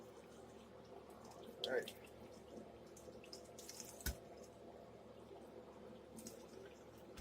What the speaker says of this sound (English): let's get here and rinse all these off just like so